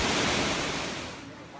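A waterfall in the hills of Sri Lanka gives a steady, broad roar of rushing water that fades a little toward the end.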